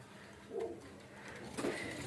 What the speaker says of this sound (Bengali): কিছু কবুতর আছে যে অনেক আগে শখে কিনছিলাম পাত্তি কবুতর কটা পাত্তি কবুতর আছে আর একটা সিলভার কবুতর আছে